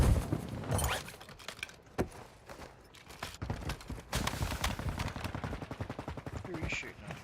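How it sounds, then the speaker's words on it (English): Rapid bursts of video game gunfire shooting down counter UAVs, sharp repeated shots in clusters with a steadier stretch of automatic fire later, fairly quiet overall with a few voices around. "Just shooting counter UAVs down."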